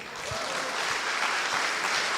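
A church congregation at a Catholic sermon breaks into steady applause, a dense continuous patter of many clapping hands that holds at moderate loudness from start to end.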